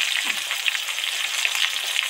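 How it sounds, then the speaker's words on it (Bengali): Vegetables sizzle in hot oil, producing a dense, even crackle and hiss throughout the short stretch. The frying is heard up close, with no speech over it. "সবজিগুলো তো একদম সফট করে ডিপ ফ্রাই করে ভেজে নিলাম।"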